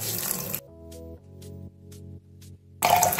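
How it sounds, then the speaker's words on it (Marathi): Rice is rinsed clean in water before a long soak: short splashy sloshing at the start and again at the end, with quiet sustained tones in between and no talking. "पाण्याने स्वच्छ धुवून टाकायचे।"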